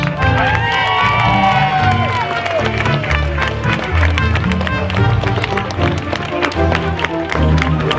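A crowd at a community event in Dewsbury cheers for the juniors, a loud, steady wash of mixed adult and children's shouting and whooping over the full length, with a few high shrieks early on.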